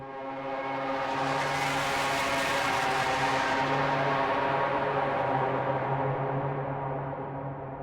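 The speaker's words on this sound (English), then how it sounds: "I'm using something called Corrupted Echoes Pad, and you can use the mod wheel to really shape this sound" A synthesized pad swells in with layered, droning tones and a shimmering echo wash, sustaining loudly before slowly thinning out at the end.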